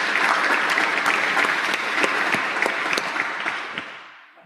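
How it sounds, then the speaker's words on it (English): Audience applause filling a Rotary Club of Gainesville meeting room after a $3,000 donation is announced, a steady dense clapping for about four seconds that thins and fades away at the end. "A big round of applause for that."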